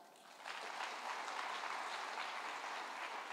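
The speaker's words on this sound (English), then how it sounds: "Can we give them a clap?" Steady, dense applause from an audience at a Kenya Girl Guides Association centenary event, a continuous even wash of clapping that swells after a brief softer start and holds without break.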